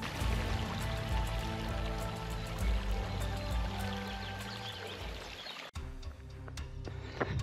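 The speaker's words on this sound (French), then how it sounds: "C'est une cascade que l'on entend." A waterfall on a mountain trail gives a continuous rushing, splashing roar close by, with a brief dip and shift in tone partway through.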